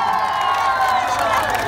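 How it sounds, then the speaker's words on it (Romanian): Festival crowd at Alba Fest 2018 cheering and clapping, a loud, dense wall of shouts and applause filling a short burst with no letup. "Aplauze, ați auzit?"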